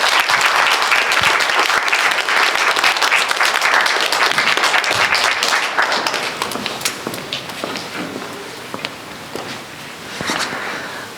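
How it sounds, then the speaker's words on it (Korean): Loud audience applause from a church congregation welcoming a speaker, sustained dense clapping that gradually thins and fades toward the end. "우리 올라오실 때 큰 박수로 우리 환영해 주시면 감사하겠습니다"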